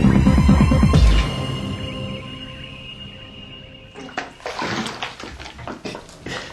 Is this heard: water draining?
yes